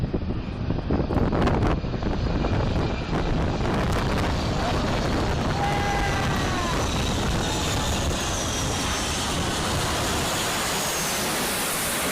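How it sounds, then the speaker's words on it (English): An airplane carrying a spacecraft comes in to land with a loud, roaring, broadband engine and wind noise, sustained and steady with a slowly falling whine, and no talking. "Have you ever seen a plane land while carrying a spacecraft before?"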